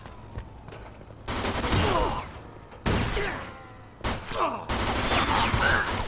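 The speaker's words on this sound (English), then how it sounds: "Nice. Tommy gun." A Tommy gun fires in the Mafia 2 video game, loud bursts of rapid automatic fire repeating in several close volleys with brief pauses between them.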